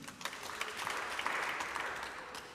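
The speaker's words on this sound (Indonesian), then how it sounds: "Tepuk tangan bagi Tuhan" A burst of clapping from a group of people at a church wedding blessing, fairly soft and a bit distant, with no one speaking over it.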